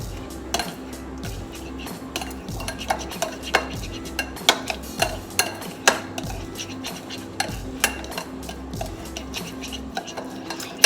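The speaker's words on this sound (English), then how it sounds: "Just gonna mix this all up." A spoon stirs fresh grated lemon peel and spice mixture in a bowl for a Creole salmon, with repeated clinks and scrapes against the bowl in an irregular rhythm, close and fairly quiet, with no talk.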